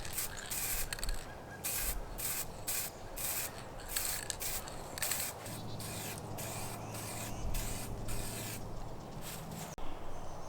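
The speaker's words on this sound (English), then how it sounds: "Alright, let's get to spraying." Tinted vintage amber nitrocellulose lacquer sprayed onto a guitar body from a spray gun or can, a steady hissing spray broken by rhythmic short bursts and pauses, close and fairly quiet, with no talking.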